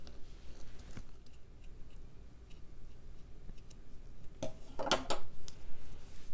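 Scissors snipping out a circle of fabric, a few soft close snips spread out over a quiet room, then a short cluster of sharper metallic cuts and clicks near the end.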